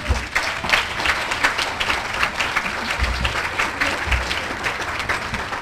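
An awards ceremony audience applauds with dense, continuous clapping, fairly close and loud, lasting around six seconds.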